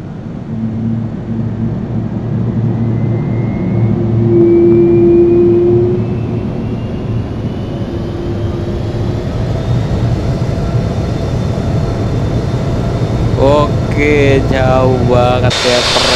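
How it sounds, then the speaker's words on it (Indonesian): Boeing 757-200 engine start in the Infinite Flight flight simulator during pushback: a steady loud turbine roar with a rising whine builds over about sixteen seconds, with brief sharper tones near the end. "kita dengerin starting engine-nya ya"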